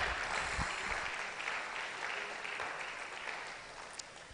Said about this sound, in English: Can we make that applause a bit bigger?